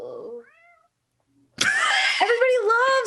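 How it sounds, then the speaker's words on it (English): A cat meows loudly and up close in a drawn-out, wavering call that follows a brief moment of speech and a short silence. "I heard the meow."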